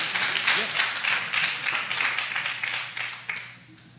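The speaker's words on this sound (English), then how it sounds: "let's give him a big hand clap of praise as he comes." Audience applause at a Boy Fest event, a moderate burst of many hands clapping in an indoor crowd, steady at first and then gradually thinning out.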